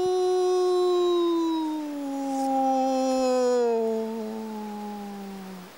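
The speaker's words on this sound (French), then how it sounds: "le hurlement" A single wild canid, a wild dog or wolf, gives a long, clear howl that slides slowly downward in pitch, drawn out over several seconds and heard close and alone.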